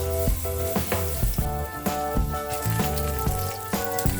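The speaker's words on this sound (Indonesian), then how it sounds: "Setelah panas, goreng bawang putih yang sudah diulek sampai baunya harum" Crushed garlic sizzles in hot oil in a wok, a dense continuous crackle and hiss with a few sharper pops and stirring scrapes, close and fairly loud.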